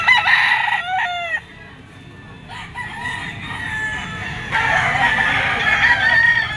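Yellow-legged, straight-comb gamecock rooster crowing close and loud, a full crow early followed by clucking and more farmyard fowl calls, with other birds faint in the background.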